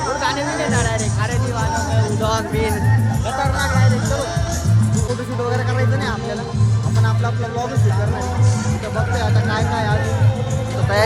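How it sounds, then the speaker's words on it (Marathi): A large crowd at a packed outdoor event gives off a dense, continuous hubbub of many voices, with music playing underneath and a nearby person talking over it throughout. "मित्रांनो जबरदस्त गर्दी आहे इथं म्हणजे विचारापेक्षा जास्त गर्दी आहे"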